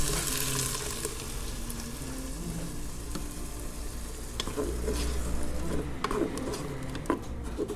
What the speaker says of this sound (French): la viande est bien revenue, les oignons ont bien fondu